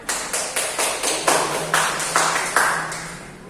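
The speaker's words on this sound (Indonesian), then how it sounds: "Boleh tepuk tangan" Audience in a classroom microteaching session claps in a steady run of distinct, fairly loud claps, with a faint tone underneath.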